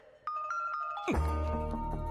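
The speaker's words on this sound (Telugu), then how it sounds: "సీను ఏంటి నాకు ఫోన్ చేశాడు?" A mobile phone ringtone plays a repeating tonal melody, at first faint, then suddenly louder and fuller as a musical ring takes over, sounding close by in a home.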